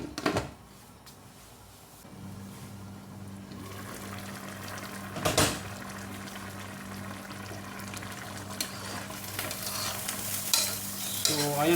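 Sardines, bottle gourd and malunggay sauté in a pan with a steady sizzle, overlaid by stirring scrapes and a sharp utensil clatter partway through.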